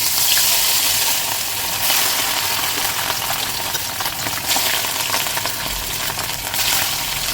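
Fish pieces sizzle in hot oil in a wok for an Assamese fish curry with kohlrabi, a loud continuous hiss and crackle that stays steady throughout with no voices.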